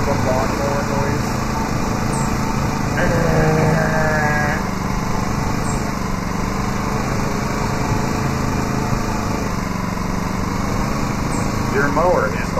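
A lawn mower runs with a continuous, loud, buzzing engine drone up close, with a few brief higher squeaky or bleat-like sounds on top.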